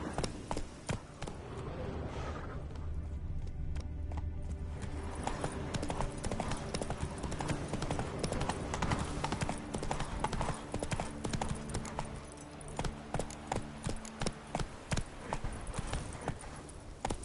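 Galloping horse hooves in The Witcher 3, a steady rapid clip-clop running throughout at close range over a layer of game ambience and music, with no talk.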